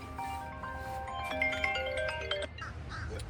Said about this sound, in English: Phone won't stop ringing.